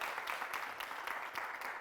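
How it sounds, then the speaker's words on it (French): A studio audience at a Burkinabe TV variety show gives sustained applause, steady and fairly even throughout, with no talk over it. "On va l'applaudir bien fort."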